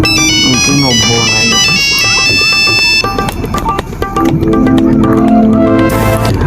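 A mobile phone ringtone plays loudly and continuously, a bright melodic tune that carries on for several seconds with a voice speaking over it.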